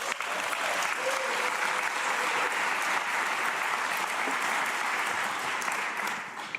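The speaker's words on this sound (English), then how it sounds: "one more round of applause." A large crowd at the Penn State Brandywine spring commencement gives a round of applause. It is dense, even and continuous, then eases off at the end.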